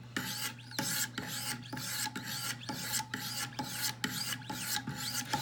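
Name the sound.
Wicked Edge sharpening stone stroking a Hinderer knife blade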